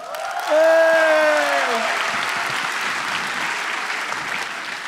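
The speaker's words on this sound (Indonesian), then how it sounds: "Indra Jegel, tepuk tangan sekali lagi." A stand-up comedy audience bursts into loud, sustained applause that carries on steadily, with a voice calling out briefly at the start.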